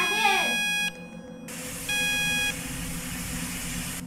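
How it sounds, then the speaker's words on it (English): A fire alarm in the Roblox video game sounds as two bursts of electronic beeping, one longer and then a shorter repeat, with a brief voice at the start and game noise underneath. "Fire alarm!"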